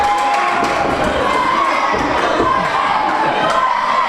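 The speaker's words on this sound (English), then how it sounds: "And the crowd getting into it." A dense crowd at a live independent wrestling show roars and cheers continuously, loud and close, with shouts and scattered thumps rising from the packed audience.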